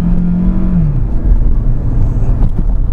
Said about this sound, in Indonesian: sekarang kita mau nyobain akselerasinya. Walaupun ini jalanan gak terlalu kosong ya, tapi kita geber